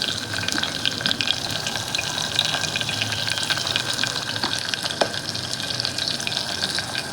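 Cloves and green chili pieces fry in hot oil for vegetable biryani, a steady close sizzle that crackles with occasional sharp pops throughout.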